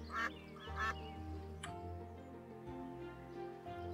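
Ducks on a pond in the video game Equilinox give a few soft, distant quacks. The calls sit over a quiet ticking game ambience with a low background tone.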